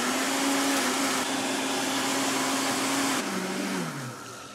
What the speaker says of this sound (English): And then we'll just put the lid on and blend this till it's smooth.